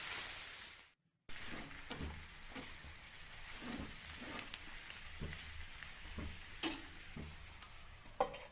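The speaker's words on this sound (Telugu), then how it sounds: "పోపు, పొటాటో బాగా మిక్స్ అయ్యేలా కలుపుకోవాలి." Mashed potato being stirred into a hot tempering in a pan for a Telugu potato dullu, giving a steady close sizzle with light scraping and stirring clicks throughout.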